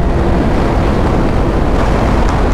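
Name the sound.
wind noise while riding Suzuki GSR 600 motorcycle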